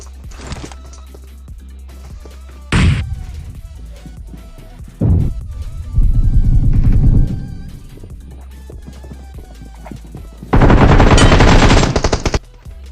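Gunfire in the mobile battle royale game BGMI, from a Groza rifle and a machine gun: several loud bursts of rapid automatic fire separated by quieter gaps, with game ambience and no talking.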